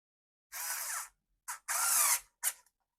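Cordless drill driving screws into a three-piece router guide: four close, loud whirring bursts of varying length, with brief pauses between them and no talk.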